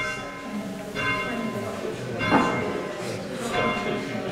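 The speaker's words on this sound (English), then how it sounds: "Tolling bell for the service before the service begins by Stuart Brooks" Church bell at All Saints, North Street, York, tolling before a service, its ringing strikes spaced about a second apart with long resonant hum, close and fairly loud, with voices faintly underneath.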